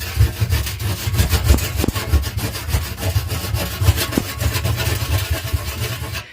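A Pumie pumice scouring stick is rubbed hard against carbon deposits inside an oven, making a loud, gritty, rasping scrape. The strokes are quick and repeated back and forth at close range, and no one speaks.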